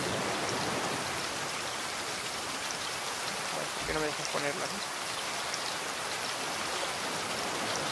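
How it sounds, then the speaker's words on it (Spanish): Steady rain falls in the survival game Raft, a constant broadband hiss throughout, with a voice speaking over it briefly. "porque está lloviendo"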